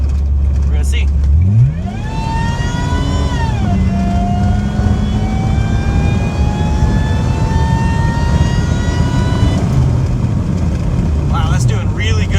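A turbocharged Honda with automatic transmission accelerates hard from about 30, engine note climbing steadily through long sustained pulls with a shift or two, loud and close inside the car, with a voice speaking over it.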